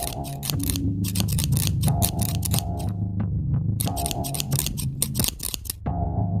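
Rapid scissor snips in quick bursts, crisp metallic cutting sounds repeating with short pauses, close and fairly loud.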